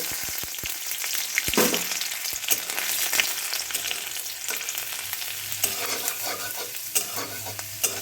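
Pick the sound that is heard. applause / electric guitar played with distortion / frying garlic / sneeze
frying garlic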